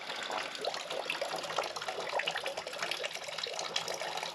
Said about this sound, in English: Getting just that little trickle. Every drop counts.